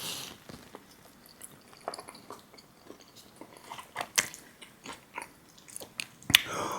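Bites into a hand-held Mongolian beef burrito, followed by close, wet chewing with irregular soft crunches and smacks spread across several seconds.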